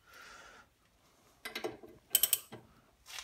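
A socket wrench with a 21 mm socket ratchets while the front air suspension is being removed: short bursts of quick mechanical clicks, fairly faint and close, with brief pauses between them.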